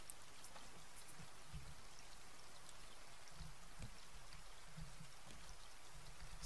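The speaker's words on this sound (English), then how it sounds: "Why is it raining again?" Rain falls in the Raft survival game, a steady, faint hiss of drops pattering on the raft and sea with a few soft, dull knocks underneath.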